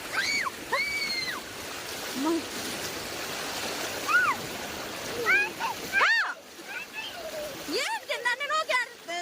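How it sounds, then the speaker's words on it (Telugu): Rushing, splashing floodwater from heavy rain pours into a housing area in Anantapur, filling the scene steadily, with people's voices talking over it throughout. "చూడండి మా వెంచర్లకు ఏ విధంగా ఎంత వాటర్ వస్తున్నాయో ఎంత భారీగా వస్తున్నాయో"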